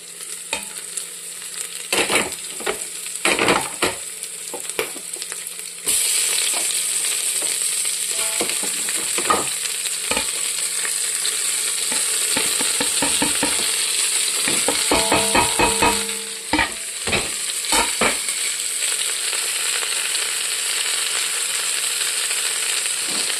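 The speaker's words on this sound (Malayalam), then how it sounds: "ഉള്ളി വഴറ്റി കൊടുക്കാം." Onions sautéing in a pan for beef curry give a loud continuous sizzle, broken by repeated scraping and clattering stirs of a utensil against the pan; no one speaks.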